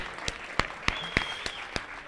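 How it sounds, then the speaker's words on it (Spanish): An audience at a Hebocon robot competition claps in a short burst, with sharp, distinct hand claps at a fairly even rhythm rather than a dense wash of applause. "Ahí estamos, un fuerte aplauso."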